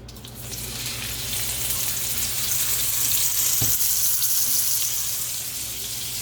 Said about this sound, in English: my butter has melted. My pan is hot. So, here's the steak.